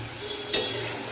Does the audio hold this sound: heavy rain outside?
no